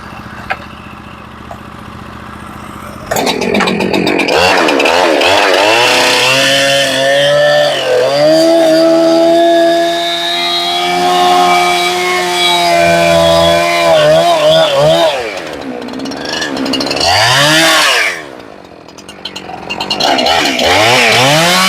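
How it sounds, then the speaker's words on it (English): Chainsaw trimming a pine log on a Norwood HD36v2 sawmill, loud and close, idling briefly before revving hard into a long sustained cut, dipping near the end, then roaring again. "I got to fire up the saw. I got to try to trim it just a little bit"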